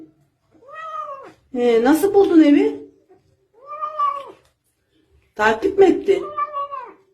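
A cat meows twice, long drawn-out calls, alternating with a person speaking to it in a close, quiet room.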